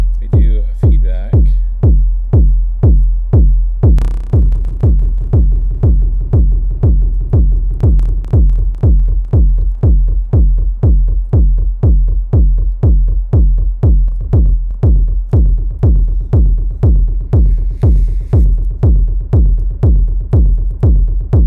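Juno-style software synth with a feedback delay effect, a steady stream of rapid, evenly pulsing notes repeating loudly for the whole stretch with occasional brighter bursts on top.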